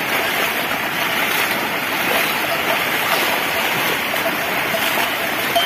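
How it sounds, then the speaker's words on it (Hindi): Floodwater rushing through a village after heavy rain, a steady loud rushing wash like a stream, constant throughout with a faint voice occasionally beneath it. "धीरे धीरे पानी का स्तर बढ़ता जा रहा है।"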